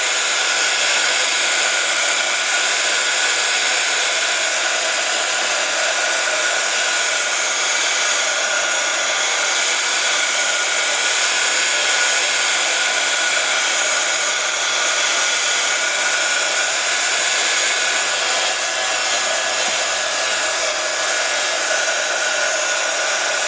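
A heat gun blows in one loud, unbroken roar of rushing air that holds steady from start to finish with no pauses.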